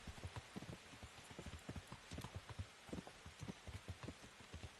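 Rainstorm in Kingdom Come: Deliverance, a soft, steady patter of drops with irregular pats and taps, fairly faint and continuous throughout.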